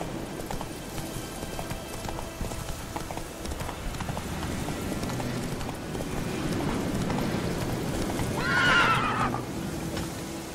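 Roach, the horse in The Witcher 3 video game, gallops with steady, rhythmic clip-clop hoofbeats over a constant background, and a whinny rises near the end.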